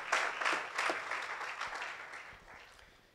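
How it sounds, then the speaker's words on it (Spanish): A church congregation applauds during a sermon, a burst of clapping that starts strong and gradually fades over a few seconds. "No sé si usted le quisiera dar un aplauso al Señor"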